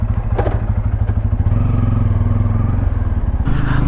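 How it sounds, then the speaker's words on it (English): A Bajaj Pulsar N250 motorcycle rides along with its engine throbbing loudly and steadily close by, a pulsing thump running the whole time with nobody speaking. "let's go for a short ride on the Bajaj Pulsar N250"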